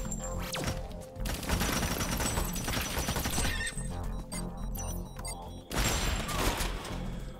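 Machine gun fire shooting wooden crates in the game Tamarin, sustained bursts of rapid shots mixed with smashing impacts, pausing briefly before a fresh loud burst near the end.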